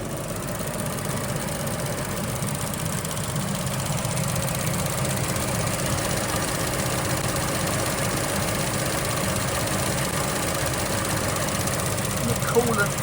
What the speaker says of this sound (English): Now we're 10 minutes in, the fan is beginning to run occasionally now, so we know we're close.